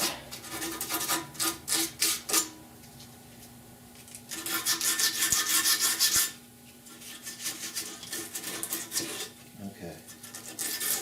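Metal on a rusted 1969 C10 truck core support is filed and sanded by hand in repeated rasping strokes, close and fairly loud, in bursts separated by brief pauses.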